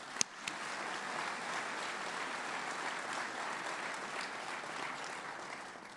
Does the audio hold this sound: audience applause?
yes